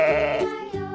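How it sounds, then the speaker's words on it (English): A sheep bleats in a kids' farm-animal puzzle game, with two loud, close wavering bleats in quick succession and nothing else. "It's the cuddly sheep."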